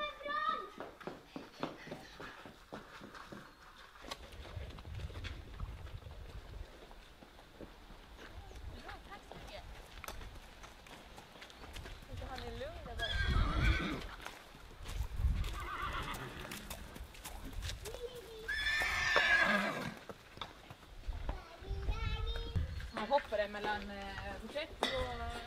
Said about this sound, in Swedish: Nu kommer hästarna.